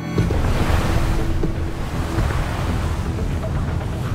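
Choppy sea waves wash and slap around an Arctic pilot boat while wind buffets the microphone in a loud, constant roar, with a low motor drone underneath and no one talking.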